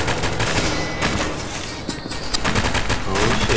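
Dense, rapid video game gunfire rattles nearly nonstop in loud close bursts, with short gaps and overlapping shots throughout.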